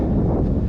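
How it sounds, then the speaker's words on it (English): Loud, blustery wind buffeting a microphone on the coast at Scituate Lighthouse and jetty, New England, a dense low rumble that holds steady through the whole brief moment. "It's quite windy."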